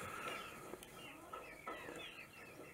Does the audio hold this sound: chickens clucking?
yes